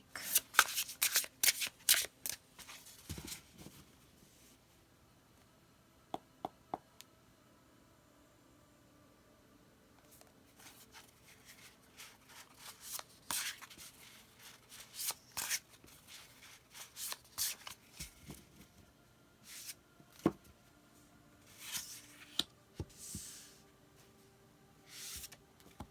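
A deck of cards being shuffled in quiet surroundings, with repeated short riffling and rustling bursts, some clustered rapidly and others spaced apart, close and fairly soft, with no talk.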